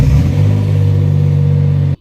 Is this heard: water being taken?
no